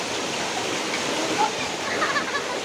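Water flows steadily beneath a bridge out in the provincial countryside, a loud, continuous rushing wash that dominates throughout at close range.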